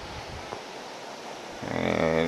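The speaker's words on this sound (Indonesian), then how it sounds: "soalnya ini ombaknya agak gede" Ocean waves wash steadily at Santolo beach in Garut, a continuous broad rushing roar heard at a distance, before a voice begins talking over it near the end.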